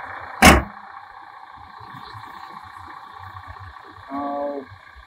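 Toyota Land Cruiser 300 V6 idling after the hood is shut: one sharp slam opens, then a low, even engine murmur continues with a brief louder swell near the end.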